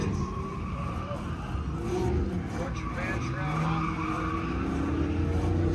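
A rough-running Plymouth 'Cuda being started and kept running while its fuel pump is sorted out, a noisy, uneven engine roar heard close up under people talking.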